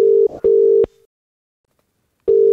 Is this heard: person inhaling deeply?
no